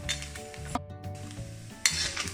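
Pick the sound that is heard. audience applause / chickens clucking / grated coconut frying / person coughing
grated coconut frying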